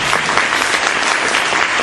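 Audience at a Korean real estate finance industry development seminar breaking into dense, steady applause, loud and sustained with no voices over it.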